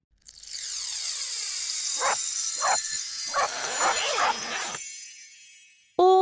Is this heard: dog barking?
yes